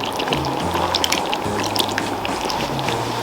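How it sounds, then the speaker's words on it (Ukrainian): Starch mixed with water pours steadily into a pot of rich pork broth, a continuous splashing trickle with faint bubbling underneath. "і вливаємо у наваристий та запашний бульйон."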